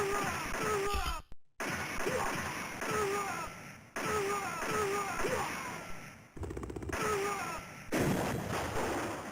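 Rapid bursts of gunfire and explosions from the 1987 arcade shooter Operation Wolf, loud and dense throughout, broken by brief cuts to silence, with game sound effects layered under the shots.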